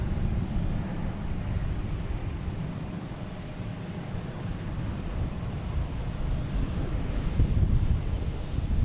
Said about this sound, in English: have Delta heading to Pittsburgh at E-175